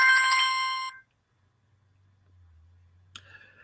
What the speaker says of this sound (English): I keep getting these phone calls. Here's another one.